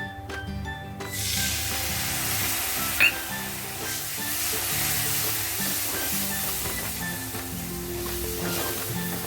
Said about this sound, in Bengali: একটু নাড়াচাড়া করব আর এটাতে একটু জল দিয়ে দেবো যাতে মশলাটা জ্বলে না যায়